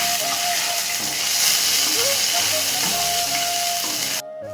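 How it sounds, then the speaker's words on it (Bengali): Ground cumin and Kashmiri chili powder fry in a pan, making a loud continuous sizzle with hissing steam that cuts off abruptly near the end. "এর ভেতর এক চামচ জিরের গুঁড়ো আর এক চামচ লঙ্কার গুঁড়ো কাশ্মীরি লঙ্কার গুঁড়ো এ দিয়ে ভালো করে আমি কষিয়ে নেব"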